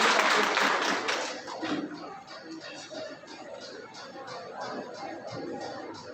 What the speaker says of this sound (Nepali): मेरो छोरीको लागि पनि जोरदार ताली।